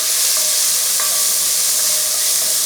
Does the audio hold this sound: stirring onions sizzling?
yes